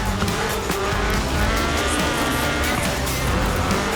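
A Ford RS 1800 rally car is driven hard in the Forza Horizon 4 racing game, its engine roaring loudly and continuously with tire squeal and gravelly skidding throughout, no voices heard.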